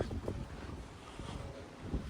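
Strong wind sweeps across an ocean beach at Cape Florida on Key Biscayne under a yellow warning flag, a steady broadband roar with gusty bumps buffeting the microphone and no voices.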